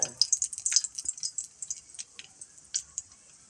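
Mustard seeds splutter in hot oil in a pan while making banana-stem pickle, a quick burst of sharp crackling pops that thins into sparser spits and sizzles, close and fairly bright.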